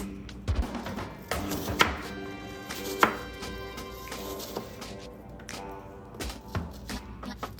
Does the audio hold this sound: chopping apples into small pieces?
yes